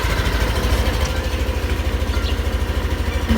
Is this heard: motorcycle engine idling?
yes